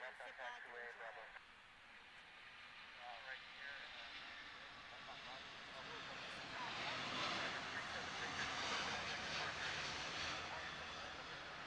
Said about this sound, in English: with the departure of Emirates Airlines